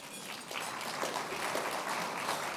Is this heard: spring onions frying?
no